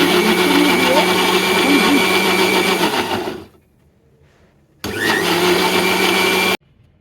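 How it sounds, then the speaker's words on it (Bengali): A blender whirs loudly while blending frozen chopped mango juice with green chili and black salt, running steadily for about three seconds, stopping briefly, then starting again for a second burst before cutting off. "সময় নিয়ে একটু আস্তে আস্তে সুন্দর করে ব্লেন্ড করলে এই জুসটা খেতে এতটা মজা হয়"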